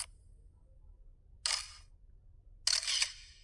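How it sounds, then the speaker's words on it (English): A camera shutter sound effect fires twice, each a crisp, bright mechanical click-burst, the second longer and doubled, separated by near silence with a faint low hum underneath. "search for the camera shutter sound effect here"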